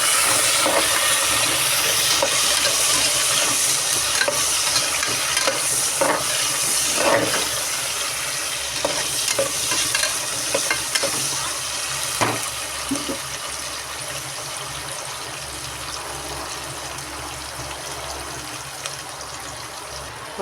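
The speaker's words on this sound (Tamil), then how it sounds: "வெங்காயம், தக்காளி, வெள்ளைப்பூடு எல்லாத்தையும் போட்டு ஒரு வதக்கு." Onion, tomato and garlic sautéing in a pan with mustard seeds, cinnamon, dried red chillies and curry leaves, giving a steady close sizzling hiss that carries on throughout with a few soft clinks and no talking.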